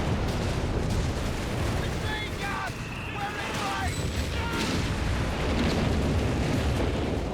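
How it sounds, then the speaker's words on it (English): Artillery barrages pound away in Company of Heroes 3, continuous rumbling blasts and bursts over a battlefield, with a voice talking over them. "Now we got more barrages all over the place here."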